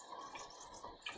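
Film developing chemistry is poured into a tilted developing tank, giving a short, soft, close trickle of liquid.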